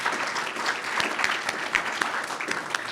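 Applause from an audience at a Scout troop's 100th anniversary celebration, a steady patter of many hands clapping at moderate volume with no talk.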